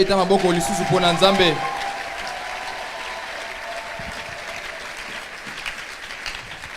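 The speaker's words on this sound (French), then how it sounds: "Est-ce qu'on peut acclamer encore pour Jésus?" A church congregation applauds and cheers for Jesus at a French-language service, with voices and clapping swelling loudly at first, then settling into sustained, steady applause.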